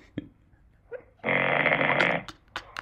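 A single loud, rasping snore lasting about a second, played back from a night-time snoring recording made by a Huawei smartwatch, with a few faint clicks and breaths around it and no talking.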